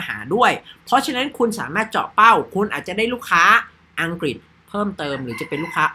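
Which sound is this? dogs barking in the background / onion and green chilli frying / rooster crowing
rooster crowing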